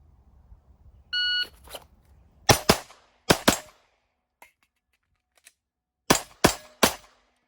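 Stock Glock Model 19 pistol fired drawing from a pocket: a short beep, then sharp loud shots in quick pairs and a triple, with brief silent gaps between strings.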